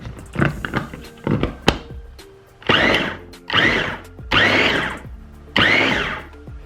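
An electric food chopper whirs through pepper in several short pulses, the first few quick and choppy, then four longer buzzing runs, each with a rising motor hum and rattling blades, up close and loud.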